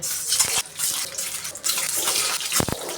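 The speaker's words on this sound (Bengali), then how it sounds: "বন্ধুরা আমি ডিমটা ভেজে নিব তেল দিয়ে দিলাম এখন আমি ডিম দিয়ে দিলাম" Egg frying in oil in a pan, a steady loud hiss and crackle of spitting oil throughout, with a few sharper pops and clatters near the start and end; no speech.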